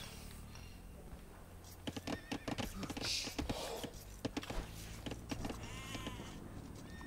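Sheep bleating in the Age of Empires 2 video game, short game-style bleats scattered among clicks and other in-game effects over a steady background, with a voice talking at times.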